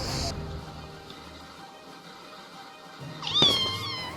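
A cat gives one short, rising meow near the end, heard close against a quiet room background after a brief sound at the start.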